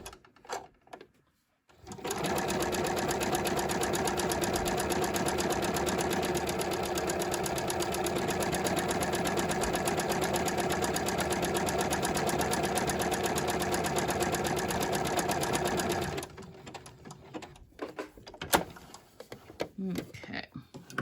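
A home sewing machine stitches a buttonhole in one steady, rapid mechanical whir lasting about fourteen seconds, then stops, followed by small handling clicks and rustles.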